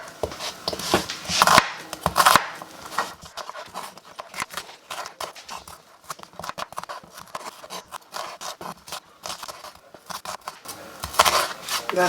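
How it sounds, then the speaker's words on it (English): Onions being cut with a knife for fried ox liver, giving a run of crisp, close slicing and chopping strokes with scraping against the board, louder bursts near the start and end, and no talking. "we are just going to cut the onions quickly"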